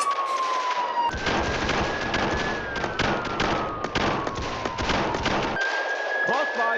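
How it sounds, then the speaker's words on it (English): Rapid, loud gunfire from a police shootout in a video game, sustained bursts of shots over a wailing siren tone, with someone talking over the action. "Shots fired, shots fired."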